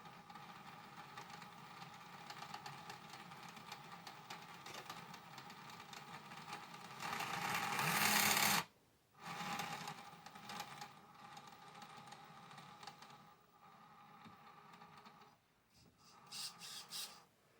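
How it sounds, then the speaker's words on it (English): Whirring, gritty gear noise of a small RGT Crusher RC crawler's driveline running, rising in a loud burst, stopping, then buzzing on and off at lower levels. "The traditional noisy RGT driveline, but everything sounds normal."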